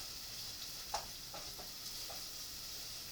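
Onions frying in olive oil in a pan give a faint, steady sizzle with a few soft crackles and pops, heard up close and quiet without any voices.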